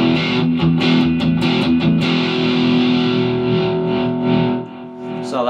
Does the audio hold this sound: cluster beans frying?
no